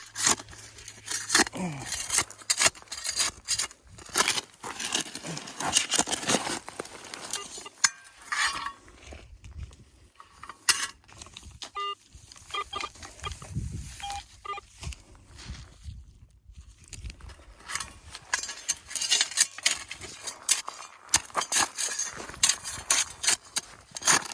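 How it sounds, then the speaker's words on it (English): Hard clacks and clinks of rocks knocking together like coins while metal detecting at a California ghost town, irregular and close, mixed with scraping and rustling movement, with occasional soft voice sounds. "It's crazy when these rocks bang together,"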